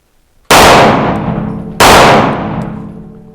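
Two loud, sharp pistol shots from a Grand Power Q1 Mk23 firing different ammo, about a second and a half apart, each with a long ringing decay.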